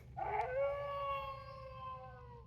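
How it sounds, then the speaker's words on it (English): A single wolf howl rises and then holds a long, clear, quiet tone, alone against a faint low background. "did you hear a wolf howl?"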